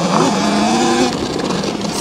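A Talaria XXX electric dirt bike accelerating hard, a rising whine with motor and drivetrain noise that climbs in pitch and then fades off, loud and close, with no talking.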